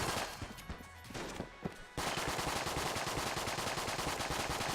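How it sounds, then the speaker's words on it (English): Rapid gunfire in the video game Enter the Gungeon: a few scattered shots, then a dense, unbroken stream of fast automatic bursts that holds at full loudness to the end. "I don't know what the range of this gun is, but I'm just shooting at this point"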